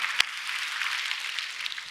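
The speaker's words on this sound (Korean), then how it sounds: "우리 주님 앞에 감사와 영광의 박수를 올려드립니다" A church congregation applauds during a Korean Sunday worship service on Christmas, a steady, moderately distant wash of many hands clapping with one sharp clap standing out early.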